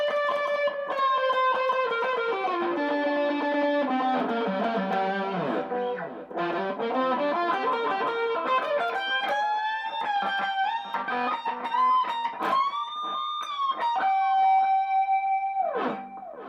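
An electric guitar through a Nu X amplifier preset with delay and reverb plays sustained, bending lead notes that ring out and trail into echoes, loud and continuous with no talking.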